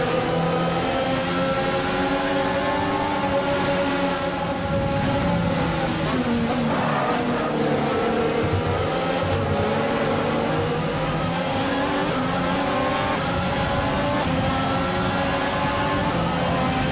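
Formula One cars in F1 2020 accelerate as the field restarts behind the safety car, producing a dense, continuous high engine whine with shifting rising and falling pitches under a steady roar.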